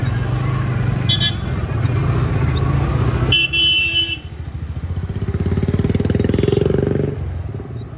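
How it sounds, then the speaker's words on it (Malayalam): Heavy Monday morning road traffic in Trivandrum: close engines idling and revving, motorcycles passing, and short horn toots early on, with a throbbing engine swelling loudly near the end. "റോഡ് മൊത്തം ഇപ്പോൾ രാവിലെ 9 മണി ആയതേ ഉള്ളൂ. റോഡ് മൊത്തം നല്ല തിരക്ക്"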